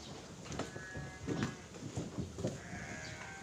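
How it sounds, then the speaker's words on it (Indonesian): Garut sheep bleating at a livestock breeding farm, several quavering bleats overlapping in quick succession at moderate distance, with faint background noise and no talk. "Seperti ini teman-teman dombanya, domba Garut."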